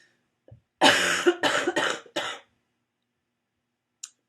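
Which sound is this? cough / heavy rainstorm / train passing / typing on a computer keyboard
cough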